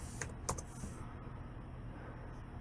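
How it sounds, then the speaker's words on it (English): Typing on a computer keyboard into a search bar, with a few quick key taps near the start followed by a steady low background hum. "Now go up here to the search bar and type in"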